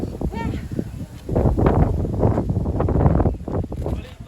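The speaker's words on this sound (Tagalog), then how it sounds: "Lakas ng hangin." Strong gusts buffet the microphone in heavy low roars at an overlook at a grotto in Dingalan, Aurora, with a person talking over the blustery wind.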